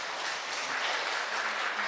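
Audience at an outdoor estuary talk concert applauds an award-winning broadcast production, a steady, soft wash of distant clapping throughout.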